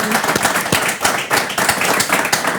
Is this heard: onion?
no